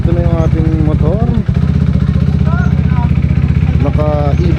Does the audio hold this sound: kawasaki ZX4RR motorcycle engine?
yes